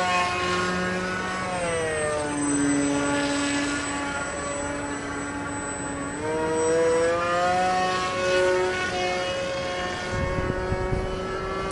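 RCPowers F35 RC model plane in flight, its electric motor whining steadily with pitch sweeping up and down as it maneuvers, fairly loud and continuous with no talking.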